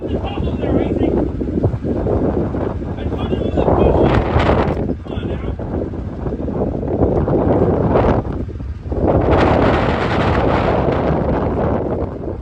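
Strong wind batters the microphone in an open farm yard, a loud continuous roar with gusts surging and easing, including a brief lull near the middle.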